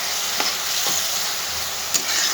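Fried small fish are stirred into masala in a hot pan under a steady sizzle, with a few distinct scrapes of the utensil against the pan and no speech.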